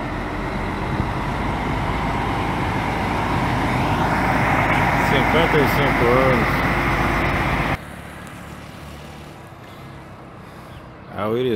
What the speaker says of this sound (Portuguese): O Irizar se preparando para pegar a BR